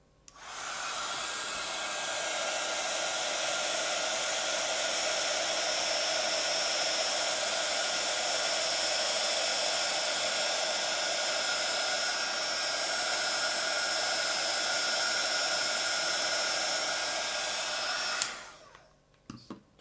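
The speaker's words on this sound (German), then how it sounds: "jetzt kommt wieder der Föhn in Einsatz" A hair dryer runs continuously for heat embossing, a steady close whooshing hiss with a faint motor whine for about eighteen seconds before it switches off and spins down.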